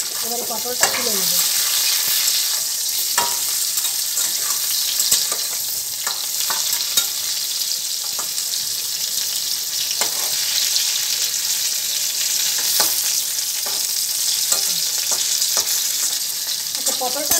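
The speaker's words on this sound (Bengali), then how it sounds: "পটলটা মোটামুটি ভাজা হয়ে গেছে," Pointed gourd (potol), slit along the sides, frying in hot oil in a pan, giving a steady, dense sizzle with occasional stirring clicks and scrapes throughout, close and fairly loud with no talking.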